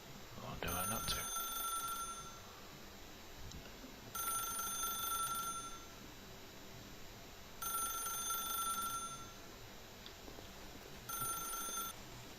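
A telephone rings in the video game The Stanley Parable, four evenly spaced bright ring bursts a few seconds apart, fairly faint over a quiet background.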